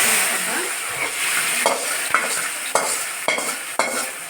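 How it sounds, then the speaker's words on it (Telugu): Whole biryani spices fry in hot oil for chicken dum biryani, a loud close crackling sizzle punctuated by repeated sharp spatula scrapes and clicks against the pan, with no voices. "ఇదిగోండి బిర్యానీ స్పైసెస్ మొత్తాన్ని ఇలా తీసుకొని ఇదే ఆయిల్లో ఫ్రై చేసుకోవాలి"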